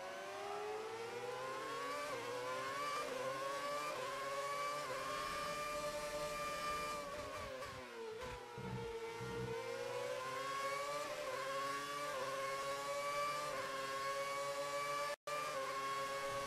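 Classic race cars at full throttle on an F2 and classic racing track, a continuous loud engine drone with shifting pitch as cars pass close by, briefly dipping in the middle and cut off by a sharp dropout near the end.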